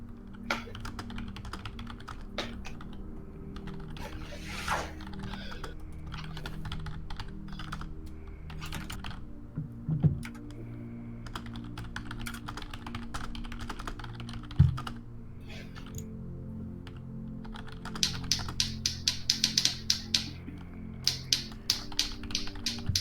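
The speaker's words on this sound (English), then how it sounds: "I think that I started typing a message to somebody" Typing on a computer keyboard, close by, with scattered key taps early on that turn into a faster, denser run of clicks toward the end. No speech.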